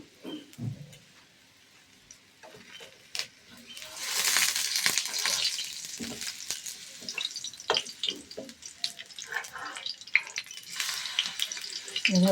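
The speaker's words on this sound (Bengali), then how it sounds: "এভাবে আমি সমস্ত পাউরুটিগুলো ভেজে ফেলবো।" Bread slices frying in a pan for a vegetarian breakfast toast, a bright hiss and sizzle swelling midway and holding, with scattered clicks and scrapes of handling.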